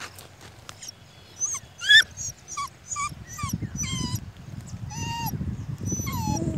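Puppy whimpering and yipping in high, wavering cries, close by, with a bark-like yelp among them, over a low rumble of background noise.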